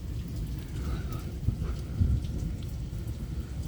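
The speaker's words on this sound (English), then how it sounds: "There are so many lightning strikes," Heavy rain pours steadily during a severe thunderstorm in Michigan with frequent lightning, with low rumbles of thunder swelling twice beneath the constant hiss of falling water.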